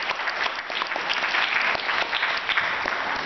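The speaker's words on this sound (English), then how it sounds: "Professor Terrence Julian, give him a hand clap." Audience at a college African Heritage program applauding, a dense, continuous burst of clapping that stays fairly loud and even for a few seconds.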